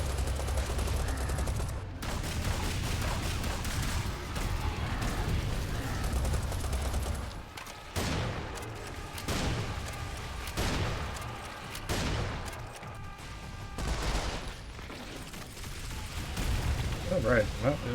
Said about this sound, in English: we've got the rocket launcher plus multi-attachment, so put it to good use.